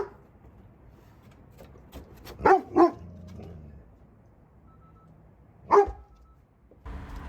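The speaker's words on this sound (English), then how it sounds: "He's barking at a neighbor." Indoor dog barking at a neighbor: a couple of quick sharp barks, a pause, then one more bark, moderately near over a quiet room.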